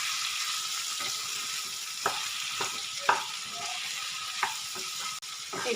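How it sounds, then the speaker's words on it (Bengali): Mixed vegetables for a Bengali labra being stirred and fried in a pan, with a steady close sizzle and several sharp clacks of the spatula scraping and tossing the pieces; no talking. "এবারে আমি পুরো সবজিগুলোকে নেড়ে চেড়ে ভালো করে ভেজে নেব।"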